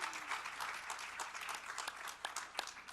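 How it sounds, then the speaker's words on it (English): At a session on poverty alleviation in Pakistan, an audience offers a brief round of clapping, fairly faint and distant, a light scattered patter. "You can clap for that."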